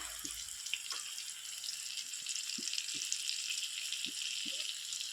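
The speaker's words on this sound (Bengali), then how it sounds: "এবার আমি ভালো করে নেড়ে চেড়ে মশলাটা ভেজে নেব" A ground spice paste fries in oil while it is stirred, giving a bright continuous sizzle with a few soft knocks from the spoon, quiet and free of speech.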